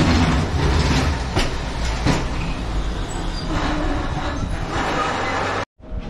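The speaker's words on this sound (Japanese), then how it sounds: "レトロな電車がやってきました。" An old-fashioned retro tram rolling into a stop in Toyama, a loud steady rumble with wheel clatter and rail noise that holds for several seconds before cutting off.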